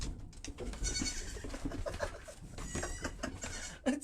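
Goats bleating at an animal farm, several overlapping calls against a busy outdoor background with other animal and bird sounds, fairly close.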